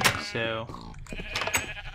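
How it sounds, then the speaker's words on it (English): Sheep bleat in a Minecraft server's sheep pen, several wavering game bleats close by with someone talking over them. "And here's all the sheep."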